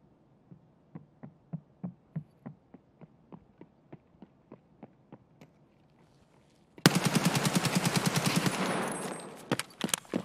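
In the video game Escape From Tarkov, an automatic gun first fires a rapid, evenly spaced series of single shots, then breaks into a loud, dense sustained burst of full-auto fire.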